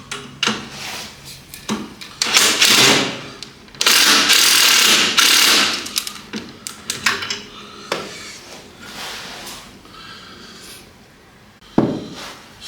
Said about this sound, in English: I've managed to pry it off slowly with the screwdriver